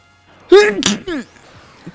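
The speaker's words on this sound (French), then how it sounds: "je vais éternuer là." One close, loud human sneeze with a short voiced intake and a sharp burst, heard alone and then fading to quiet.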